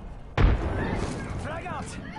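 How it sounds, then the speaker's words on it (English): A frag grenade goes off in the shooter game Apex Legends, one sudden loud boom with a rumbling decay while voices and game sounds continue over the tail. "Grenade out! Frag out!"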